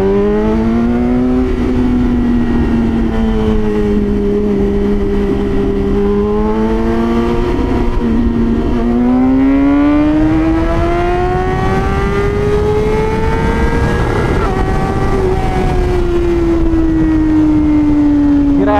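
A BMW S1000RR with an SC Project exhaust screams in first gear, a loud, close, sustained engine howl that climbs and dips in pitch across long revs, with wind noise throughout.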